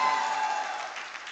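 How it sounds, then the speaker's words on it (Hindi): An audience at a college alumni meet in Moradabad claps together in a dense, steady burst of applause that fades slightly toward the end, with no voices over it. "एक बार ताली आली बजाओ"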